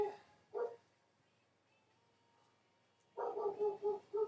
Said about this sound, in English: Oh man, it's my brother's dog. He's going at it again.